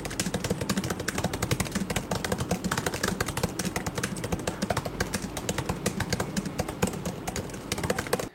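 Rapid, steady keystrokes on a MacBook laptop keyboard, close and continuous for several seconds with no pauses or voices, a dense run of light clicking taps.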